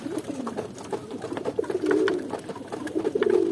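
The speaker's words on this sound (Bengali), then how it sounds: "এই যে ঘুঘু, এরা সবাই চিন্তায় আছে।" Doves coo repeatedly on a rooftop while being fed, their soft, throaty calls rising and falling in close, overlapping phrases without any talking.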